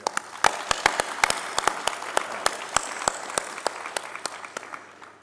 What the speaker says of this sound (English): So can we please give them a round of applause too?